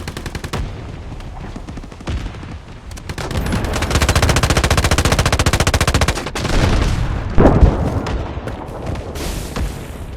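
Rapid machine-gun bursts and heavy artillery barrage booms in the Delta Force Mobile shooter, loud and close, with sustained rattling fire, sharp blasts and a rumbling impact near the end.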